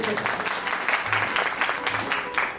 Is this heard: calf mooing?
no